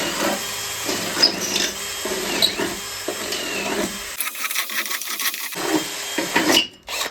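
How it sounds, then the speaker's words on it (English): A drill running through plasma-cut bolt holes in a steel part on a homemade mini Jeep, truing each hole to size: steady close grinding and rasping that drops out briefly, then resumes with short bursts. "I like to go back through with a drill in the right size"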